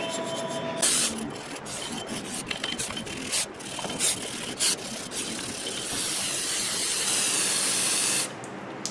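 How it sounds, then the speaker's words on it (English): Rust is rubbed off the outer surface of a Ford Escape's front brake hub, a steady abrasive scouring and hissing friction that runs almost continuously, close and moderately loud, with brief pauses and no talking. "A little bit of rust on the outside of the hub here. So we'll just kind of shine that up a smidge."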